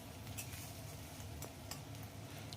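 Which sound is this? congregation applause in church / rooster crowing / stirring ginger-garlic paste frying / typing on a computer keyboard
stirring ginger-garlic paste frying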